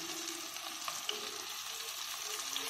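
Chicken legs deep frying KFC style in boiling oil, a steady close sizzle and crackle with scattered small pops throughout, no voices.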